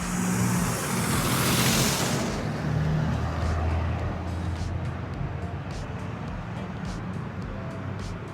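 Road traffic along a downtown street in historic Provo, Utah: a continuous rumbling wash of passing cars that swells loudly early on and then settles into a steadier hum.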